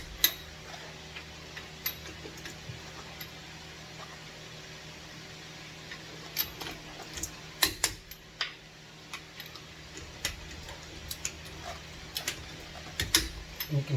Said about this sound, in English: You then place that on each lug, and you push down on it until you hear it click.